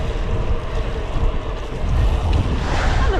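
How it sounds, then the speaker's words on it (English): Wind buffets the microphone on a group road bike ride through Dorset, a loud, continuous rumbling roar that surges slightly toward the end, with no voices. "I don't think we're going to lose the wind at all today."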